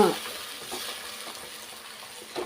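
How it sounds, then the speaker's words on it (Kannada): Spices are tempered in hot oil for toor dal, a continuous close sizzle with faint crackles of spluttering. The level stays moderate and no one talks. "ಸ್ವಲ್ಪ ಸಿಡಿಯುತ್ತೆ. ಸ್ವಲ್ಪ ಫ್ರೈ ಮಾಡ್ಕೊಳ್ಳಿ."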